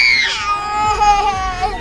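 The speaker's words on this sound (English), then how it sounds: "The baby's laughing at her sister screaming." A young girl screams in a long, high, wavering cry that gradually slides lower, loud and close, with no words spoken.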